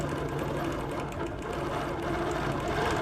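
A sewing machine hums steadily and loudly at close range while free-motion quilting, its rapid needle stitching forming an even mechanical drone with no pauses or speech.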